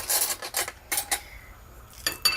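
A spoon scrapes and digs into bread pudding topped with powdered sugar and butter in a dish, giving several short close scraping strokes with brief pauses and no talking.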